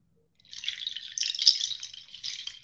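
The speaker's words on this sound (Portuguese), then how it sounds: "Esse som de água" A played instrument gives off a bright, shimmering, water-like trickle of quick, dripping notes, close and fairly soft, with nothing else around it.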